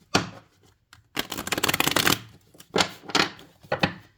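Tarot cards being shuffled by hand: a quick riffle, then a longer flurry of rapid card flutters, followed by a few shorter riffles, close and crisp with silent gaps between.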